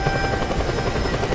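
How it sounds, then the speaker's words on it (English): A helicopter in the video game Just Cause 2, its loud, rapid rotor thumping droning steadily in the foreground, a brief, close, continuous chop. "this helicopter's faster than what mine was"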